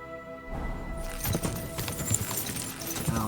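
Horse hooves gallop in rhythmic clip-clop through the video game Kingdom Come Deliverance 2, steady and fairly close after a quiet start, with a brief whinny in the mix.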